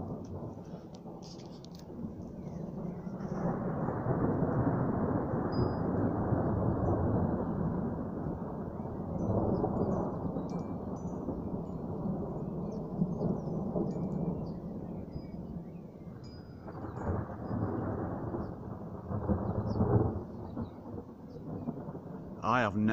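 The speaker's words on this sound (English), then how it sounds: "Not with this much thunder going on." Thunderstorm over Gainsborough with heavy, continuous rolling thunder and steady rain, loud and sustained throughout with booming swells; a person briefly talks near the end.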